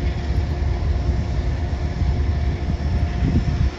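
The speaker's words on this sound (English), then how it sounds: "There's a loading passenger train that's going to Grand Central." A passenger train bound for Grand Central sits loading at Croton Harmon station, giving off a steady low rumble and broadband engine hum with faint tonal whine, constant and fairly close.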